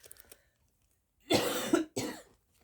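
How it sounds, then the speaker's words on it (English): Two harsh, close coughs, the first longer and the second shorter, sound in a quiet indoor room after a few faint small taps. "apologise for my coughing"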